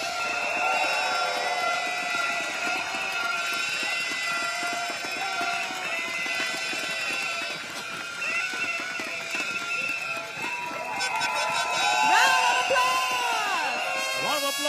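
Rally crowd at Bedok Stadium applauding East Coast GRC candidates, a continuous roar of cheering and clapping with whistles and tonal noisemakers layered over it, loud and sustained, swelling near the end.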